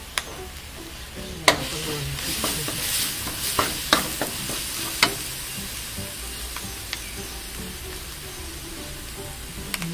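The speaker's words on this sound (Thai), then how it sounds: "ใช้น้ำมันเดิมนี่เลยแล้วก็ผัดพริกแกงต่อเลย" Curry paste stir-fried in pork lard in a wok, a steady sizzle with scraping stir strokes and a few sharp utensil clicks against the pan, close up with no voices.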